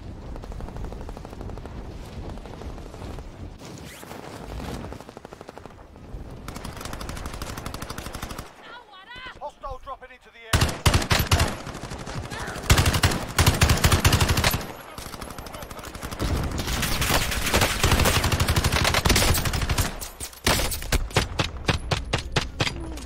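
Video game gunfire rings out in long bursts of rapid, loud shots, with a quieter stretch, then dense volleys and a final run of separate cracks, all close.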